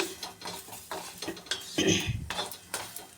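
Okra being fried and stirred in a pan for a Karnataka-style palya, with a utensil scraping and clinking against the metal over a soft sizzle in irregular bursts, close by and fairly quiet.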